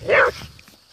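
A whippet barks once while chasing a lure, a short sharp bark up close followed by a faint whimper and quieter background.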